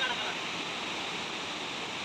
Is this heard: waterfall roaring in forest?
yes